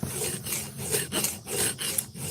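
A steady back-and-forth rasping of a file working over a steel axe head during restoration, close and fairly quiet, in even rhythmic strokes with no talking.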